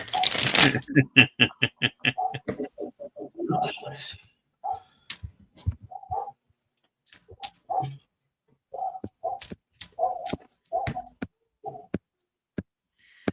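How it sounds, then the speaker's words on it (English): A quick run of repeated barks from a dog outside at the start, then speech with scattered short clicks and ticks. "Pay no attention to that dog barking out there"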